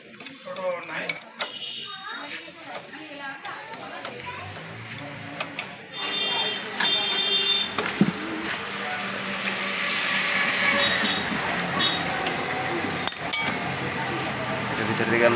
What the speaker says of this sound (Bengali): সেন্টার প্লেট খুলছি আমরা।